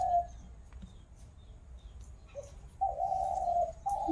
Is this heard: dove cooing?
yes